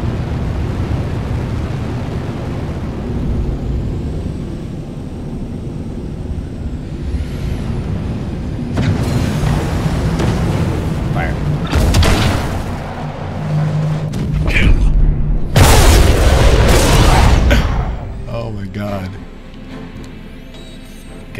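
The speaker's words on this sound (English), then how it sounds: "Gotta love those torpedoes." Torpedo explosions in the Star Citizen space game, heard as several loud, heavy booming bursts over a low rumbling engine drone. A voice speaks during the clip.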